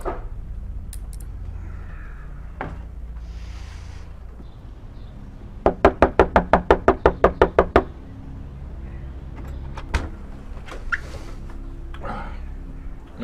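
A quick series of about a dozen sharp knocks on a door, evenly spaced and fairly loud, over a low background rumble, followed later by a couple of isolated knocks.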